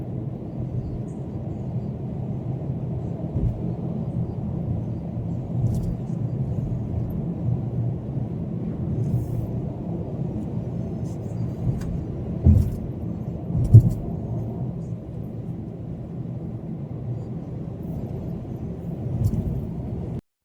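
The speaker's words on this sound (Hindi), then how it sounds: "120 130 की स्पीड पे गाड़ी चल रही है" A car cruises at 120 to 130 km/h on a smooth highway in Italy, heard from inside the cabin as a steady low road and engine rumble with occasional faint knocks and rattles.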